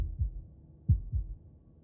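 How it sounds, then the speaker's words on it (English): A heartbeat thuds in the video game Slay the Princess: low, muffled double beats repeating slowly and evenly, close and alone. "That was the sound of a heartbeat, followed by another,"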